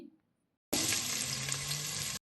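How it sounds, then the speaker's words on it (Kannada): Three or four crushed garlic cloves drop into hot oil and burst into a loud, steady sizzle lasting a second and a half, preceded by near silence. "ಎಣ್ಣೆ ಕಾದ್ಮೇಲೆ ಒಂದು ಮೂರು ನಾಲ್ಕು ಎಸಳು ಬೆಳ್ಳುಳ್ಳಿನ ಚಚ್ಚಿ ಅದಕ್ಕೆ ಹಾಕ್ಕೊಂಡಿದ್ದೀನಿ"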